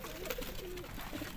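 Slate-grey pigeons in a loft coo softly and repeatedly, several low rounded calls close by over a steady background hum, with no talking.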